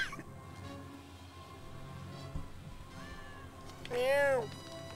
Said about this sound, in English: Cat said meow in Japanese.